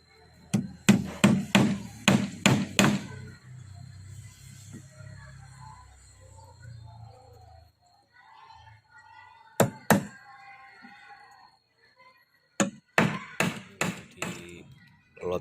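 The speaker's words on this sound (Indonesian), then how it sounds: "Kita pasang paku ya." Nails being hammered into wooden formwork for a concrete column: bursts of five or six rapid, sharp, close hammer blows, a long pause with only faint background sound, then more quick strikes.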